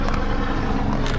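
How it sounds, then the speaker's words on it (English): A steady low rotor drone and rumble fills the air overhead, fairly loud, with no voices. "Oh, freaking helicopter, man."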